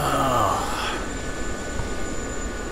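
Helicopter in the DCS World flight game hums with a steady rotor and turbine drone, moderately quiet and continuous, with brief higher tones fading in the opening moment.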